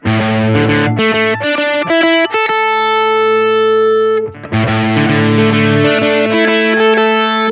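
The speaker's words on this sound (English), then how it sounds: "let me just roll back the gain a little bit, because I think it's a little bit clearer if I don't have quite so much distortion on the strings" Guitar played through a hex fuzz distortion on a Roland VG-99, GR-D or Boss GP-10 guitar synth with the gain rolled back, giving loud, buzzy chords and single notes, including one long sustained chord and a short gap before strumming resumes.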